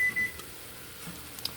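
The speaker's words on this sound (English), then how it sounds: "our timer is also going off for our veggies." A kitchen timer sounds a couple of short, faint electronic beeps at the very start, then gives way to quiet kitchen background.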